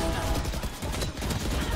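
Rapid bursts of gunfire in a shooter video game crackle in quick succession, close and fairly loud, with a continuous layer of game noise underneath.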